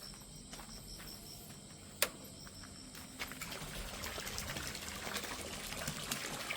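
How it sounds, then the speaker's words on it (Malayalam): A pump returns water into a tarpaulin-lined fish pond, where it splashes and trickles softly. The sound is faint and continuous, with crickets chirping in the background and one sharp knock near the middle. "വെള്ളം ഇങ്ങനെ കുത്തിച്ചാടുമ്പോൾ അത് എയറേഷൻ ഉണ്ടാകുന്നുണ്ട്"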